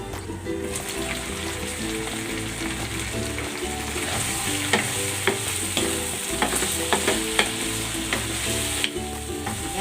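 Sliced patola (sponge gourd) sizzles steadily under a lid in a covered pan, with a loud, constant frying hiss and scattered pops and crackles throughout.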